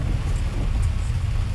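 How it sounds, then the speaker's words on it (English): Heavy rain recorded outdoors, a dense, steady low rumbling wash with constant hiss, close and fairly loud throughout, with no voices. "I'm gonna insert a clip because I took a little video of the rain."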